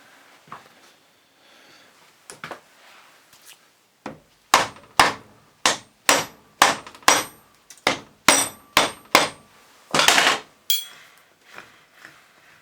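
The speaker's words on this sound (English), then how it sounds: "Rubber hammer." A rubber hammer strikes the metal of a Lucas C40 dynamo in a run of about a dozen firm, evenly spaced blows, close up, with a short pause before the final hits.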